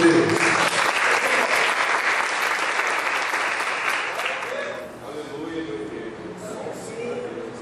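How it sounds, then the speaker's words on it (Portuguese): A church congregation claps together loudly in praise to God during a Portuguese-language service, dense applause that fades out after about five seconds, leaving quieter murmuring and faint voices. "aplauda a Deus Todo-Poderoso."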